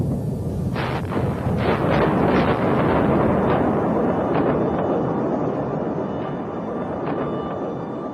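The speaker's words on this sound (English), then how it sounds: "Yes, there are explosions, there is fire." Explosions from tanks shelling the upper floors of the Russian White House during the 1993 constitutional crisis, with live and blank rounds: a series of loud booming blasts rolling over a sustained rumbling roar, several sharp impacts in quick succession.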